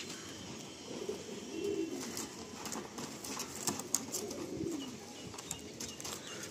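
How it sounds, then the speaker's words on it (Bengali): A Madrasi pigeon coos softly in a Kolkata loft while being handled, a few low murmuring coos over faint background noise and light rustles, with no talk. "পায়রাটা রিলিজ করে দিই"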